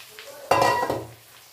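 Small chuno mourola fish tipped into a pan of hot oil and spice masala land with a sudden loud sizzle and a clatter of the pan, then fade quickly into a softer crackle.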